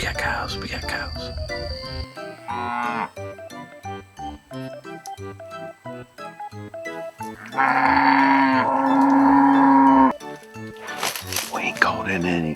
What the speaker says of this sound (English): You got cows, we got cows.